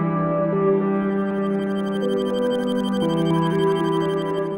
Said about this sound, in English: This is the Moog Messenger, and it's a monophonic analog synth with a ton of features.